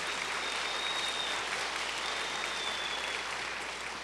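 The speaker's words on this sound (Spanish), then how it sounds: "Dale fuerte aplauso al Señor." A church congregation applauds loudly during a Spanish-language sermon, a steady, dense wash of clapping from many hands that holds evenly throughout and tapers only slightly at the end.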